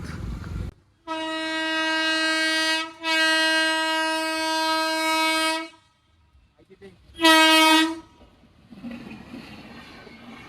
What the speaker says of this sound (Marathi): चंदीगड पंढरपूर एक्सप्रेस चाललेली आता आणि आपण तिथं फाटकापासून थांबलोय श्रीगोंद्याच्या इथे